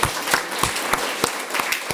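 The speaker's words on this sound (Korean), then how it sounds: "우리 다 같이 한번 박수하고 하나님께 감사합니다" A church congregation at a morning service claps together in a brief round, a dense burst of many hands with several strong rhythmic peaks, fairly loud and without talk.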